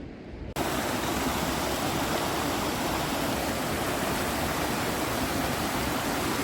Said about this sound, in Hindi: इसी तरह के जगह जगह पर आपको जो है वो मिलते रहेंगे झरने टाइप कुछ।